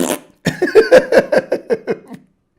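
A voice imitates a fart with a rapid series of about ten sputtering, buzzy pulses, loud and close, after a short opening sound.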